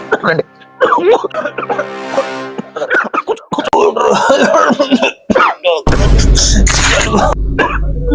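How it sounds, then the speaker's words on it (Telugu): Coughing from a person with a cold, mixed into lively nearby talk, with a harsh, noisy burst near the end. "దగ్గు జలుబు అంతే కదా"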